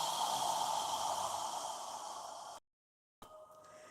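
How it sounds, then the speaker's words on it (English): A long, breathy exhale through the mouth, soft and steady as if fogging a mirror, fades out into silence before a faint quiet tail returns. "As you exhale, imagine you're fogging a mirror with your breath."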